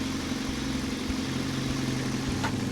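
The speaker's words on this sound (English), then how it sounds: "we're going to let the engine warm up and then we'll chuck this in" A warmed-up car engine idles steadily with a low, even hum and faint whir, alone and at moderate level throughout.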